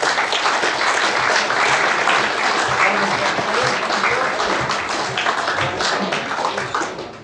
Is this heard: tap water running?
no